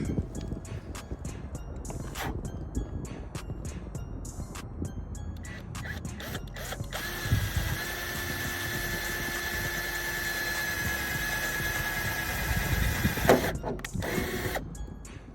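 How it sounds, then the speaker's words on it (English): A power drill whirs steadily for several seconds, boring a hole in a carbon fiber spoiler for a Dodge Charger Hellcat, its pitch holding then rising as the bit bores through, with clicks and handling noise around it. "Now this is the final drill bit."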